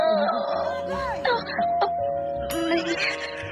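A doorbell rings inside a home, a clear ding-dong tone sounding over voices chatting nearby.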